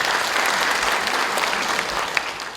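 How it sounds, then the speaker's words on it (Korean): Steady applause from a church congregation during a Sunday worship service, a dense, continuous wash of clapping filling the room for a few seconds with no voices over it. "우리 하나님께 감사의 박수를 드리겠습니다."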